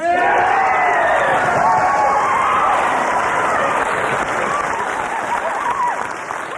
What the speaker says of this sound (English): enthusiastic applause there for band number 3